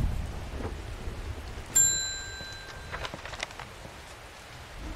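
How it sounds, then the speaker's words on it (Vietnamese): Steady rain falls in the video game Strange Horticulture, a soft continuous patter with a low rumble, broken once by a sharp bright chime that rings out and fades over a few seconds. "Mình chơi con game này thì một tuần mưa hết 6 ngày rồi."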